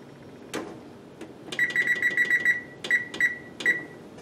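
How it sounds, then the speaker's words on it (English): Kitchen timer being set for two hours during backyard heat-treating of a plane blade: a few scattered button clicks, then a quick run of close, bright beeps followed by three more spaced single beeps. "Now I'm just going to set my timer for 2 hours."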